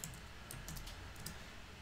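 Computer keyboard typing, a few quick clustered key clicks against a steady background hum, no voices.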